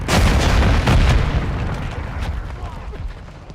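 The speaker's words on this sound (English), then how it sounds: "Stun grenade out!" Stun grenade going off in Call of Duty Modern Warfare 3, a loud booming blast that rumbles and slowly fades, with combat noise and voices around it.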